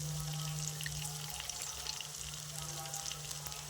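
Tomato frying with salt, turmeric and coriander powder in a pan, a continuous faint sizzle over a low steady hum, with no talking.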